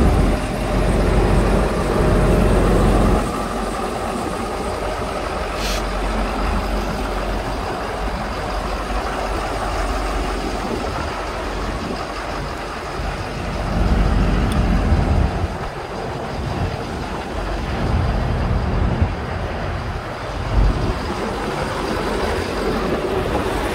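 A 2012 Ford F250 diesel pickup with 166,000 miles idles steadily nearby, its low, even rumble continuing throughout with slight swells in loudness.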